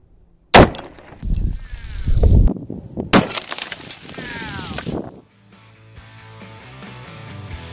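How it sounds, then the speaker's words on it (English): A WW2 54R-PZ exploding sniper round strikes glass: two sharp, loud bursts of shattering with cascading shards and tinkling debris, followed by a quieter settling tail. "You saw it explode on the glass"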